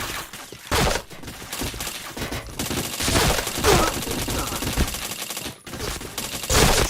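Rapid video game gunfire in a mobile battle game, dense bursts of automatic shots and sharp cracks packed close together, loud and continuous with brief pauses between volleys.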